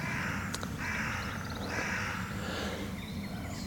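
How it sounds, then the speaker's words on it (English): Crows caw in the woods around Speke Hall in Liverpool, a few harsh calls rising over steady outdoor ambience and carrying from some distance. "The crows are calling"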